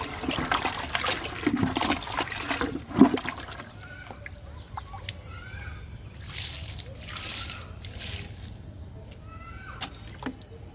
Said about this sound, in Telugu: ఇంకా లిక్విడ్ ఇచ్చేద్దాము.